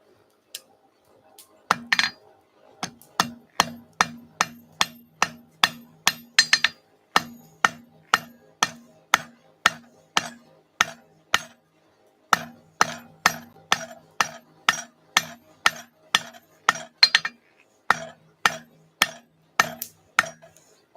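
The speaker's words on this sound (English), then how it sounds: "I'm going to switch to a heavier hammer so it makes some more movement" A hand hammer strikes hot metal on an anvil while forging nails. Dozens of bright, ringing blows land in a steady rhythm with short pauses, loud and close with no talk.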